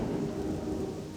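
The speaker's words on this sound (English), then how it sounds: "It's nice and rainy here." Steady rain with a low thunder rumble in the jungle of Stranglethorn in World of Warcraft, a continuous, even wash of rainfall alone, with no voices.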